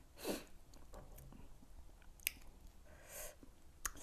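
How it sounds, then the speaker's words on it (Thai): Ginger being chewed close to the mic, quiet wet crunching and mouth sounds in a few bursts with short pauses, along with soft sniffs. "มากินขิงเนาะ"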